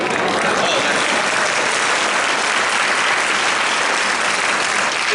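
An audience at a themed chorus show claps in a dense, steady burst of applause that fills the room, without a break and with no speech over it.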